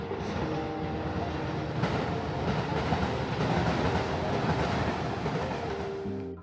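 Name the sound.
train passing near a bamboo forest in Kyoto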